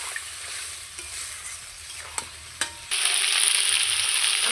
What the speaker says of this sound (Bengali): এইবার হালকা একটু কষিয়ে নেব